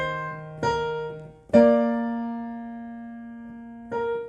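Piano plays part 2 of a song's chorus, with three separate struck notes or chords ringing out clearly and decaying slowly in a calm, unhurried rhythm with no talking.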